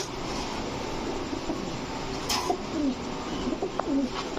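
Rampuri, Giribaz and racer pigeons cooing, several soft repeated coos close by over a steady background hum, with one brief sharp click, no talk.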